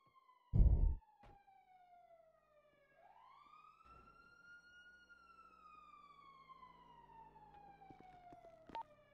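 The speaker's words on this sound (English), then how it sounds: "I hear sirens." A police siren in the GTA video game wails in long rising and falling sweeps, faint and somewhat distant, opened by a short sharp thump and ending with a few small clicks.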